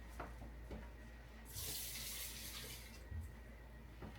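Tap water runs from a faucet into a measuring cup while water is measured for cooking rice, a steady hiss that swells loudly midway for about two seconds, then settles back to a quieter trickle.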